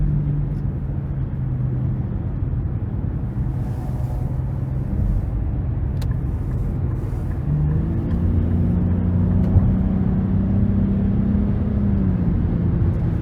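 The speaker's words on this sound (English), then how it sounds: "Yeah, great turbo pull" Turbocharged engine of a 2023 Nissan Rogue Platinum pulling under acceleration, a steady low drone heard from inside the cabin that rises in pitch partway through, with road rumble underneath.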